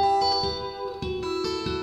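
Guitar playing the opening two bars of the riff, with a sustained ringing note under soft repeated picked accents, moderately quiet and echoing, without any voice.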